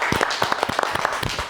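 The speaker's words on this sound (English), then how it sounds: "So an extra applause for you." A game show audience claps in a short, brisk burst of applause for a contestant, scattered hand claps close and fairly loud with no talk over them.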